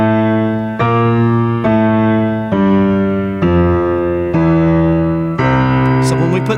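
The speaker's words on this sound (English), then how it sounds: "sometimes it's appropriate just to play the bass line as an octave" Left-hand hymn bass line on piano played in octaves, seven sustained low notes struck one after another at an even, stately pace, each ringing out clearly and alone.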